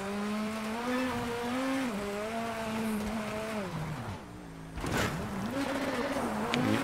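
A rally car in the video game WRC 8 drives with its engine revving up and down through the gears as its tires slide, the steady motor tone dipping and rising again after a brief lift off the throttle.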